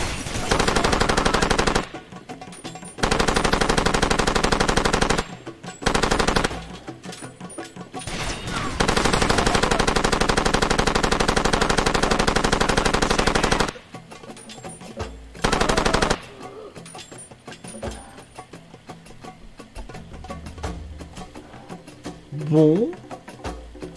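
Bursts of automatic gunfire in the video game Far Cry 2, long sustained volleys broken by short pauses, loud and close, with occasional softer game sounds between the bursts.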